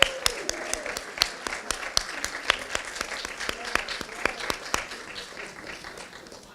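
Audience applause at a 2017 career services co-op ceremony: a steady wash of many hands clapping with sharp individual claps standing out, sustained throughout at moderate distance.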